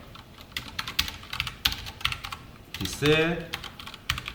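Rapid clicking of a computer keyboard as Java code is typed, a steady patter of keystrokes with a brief spoken word in the middle.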